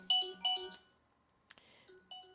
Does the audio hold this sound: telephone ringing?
yes